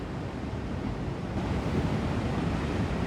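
Ocean waves break and foam below a cliff-top platform at La Pared, Fuerteventura, a steady, broad roar of surf mixed with wind noise on the microphone, with no voices.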